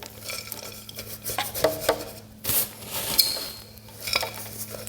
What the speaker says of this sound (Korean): 잘 흔들어줘야지 뿌리 사이사이 잘 들어가겠죠.